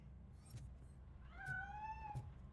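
A cat meows once in a rising, drawn-out cry over a low rumbling background, in the video game RoboCop.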